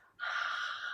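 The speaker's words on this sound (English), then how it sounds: "We're going to come into the Ujjayi breath." A single breathy, hissing ujjayi yoga exhale pushed through a narrowed throat, close and steady for under a second.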